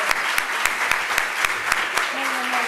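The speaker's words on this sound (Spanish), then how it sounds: "Y un aplauso." Applause from the audience at a tarot congress in Barcelona after a talk, a steady patter of clapping through a hall, with periodic sharp transients and a faint tone near the end.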